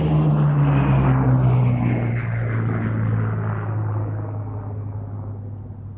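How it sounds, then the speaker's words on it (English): A Hawker Hurricane fighter's piston engine roars past loudly on its final air show pass, the propeller drone bending downward in pitch and fading steadily as it draws away. "That was the final pass by the Hurricane"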